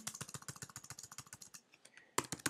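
Fast typing on a computer keyboard: a quick, even run of sharp close key clicks, a brief pause, then another burst of keystrokes, with no voices.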